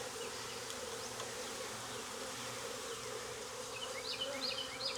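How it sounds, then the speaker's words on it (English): Honey bees in an open hive during an inspection keep up a continuous droning hum, close and moderately loud, with a few individual bees zipping past near the end and no speech. "There's plenty of bees in this hive."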